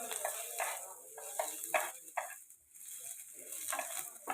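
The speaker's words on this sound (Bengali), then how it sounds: "এগুলোকে জাস্ট একটু নেড়ে নিতে হবে ভাজা ভাজা হয়ে এলেই।" Chopped ginger and garlic frying over high flame for a green bean stir-fry, with a rhythmic series of spatula strokes scraping the pan over a steady sizzle, close and moderately loud.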